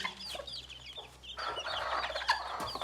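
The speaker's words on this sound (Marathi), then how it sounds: "एक कोंबडी अशी आहे तिची किती पिल्लं आहेत बघा" A mother hen with a large brood of about thirty chicks clucks softly in low repeated notes, while the chicks cheep in high, rapid peeps close by.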